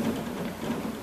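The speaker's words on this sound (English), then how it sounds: "I'm sorry about the noise from the rain" Rain drums steadily on a plastic roof by a window, a dense close patter with no talk.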